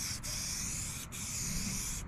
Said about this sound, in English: I'm just going to spray the rim and ignore it because that's easier.